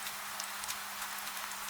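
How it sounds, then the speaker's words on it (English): Gentle rain falls on stone street paving on a night in Victorian London, a steady soft hiss of fine drops with occasional louder patters, continuous and even throughout. "The rain comes down through the light in fine silver threads."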